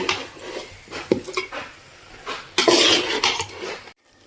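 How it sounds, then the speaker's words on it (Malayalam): A spoon scrapes and clatters in a pot while avial, a Kerala vegetable curry, is stirred after curd is added, with uneven knocks and scraping bursts close by, then an abrupt stop. "ഇനി നമുക്കിതിലേക്ക് തൈര് ചേർത്ത് കൊടുക്കാം. നന്നായിട്ടൊന്ന് ഇളക്കി കൊടുക്കാം"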